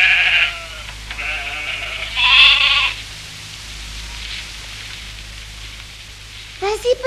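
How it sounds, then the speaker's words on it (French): A cartoon sheep bleats several times, loud, wavering cries clustered near the start with another burst at the end, separated by a quiet stretch of soft background hiss. "Vas-y, petit mouton, profites-en."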